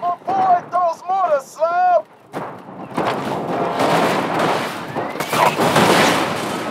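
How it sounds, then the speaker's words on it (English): Mortar fire in Borderlands 2 rumbles in as a sustained barrage of booms and crackling blasts, following a stretch of talking and an electronic tonal sound at the start. "Slow ass mortars, I know that."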